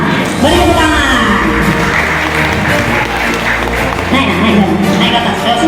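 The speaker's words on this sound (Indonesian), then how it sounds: "Beri tepuk tangan." An audience at a primary school report-day showcase applauds an athletics winner, steady dense clapping mixed with cheers and shouts, with voices talking over it throughout.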